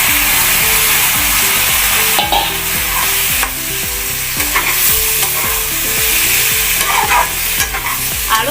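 Boiled potatoes and peas go into a hot frying pan and are stirred, producing steady loud sizzling with repeated scraping and clinking of a spoon against the pan, with no talking.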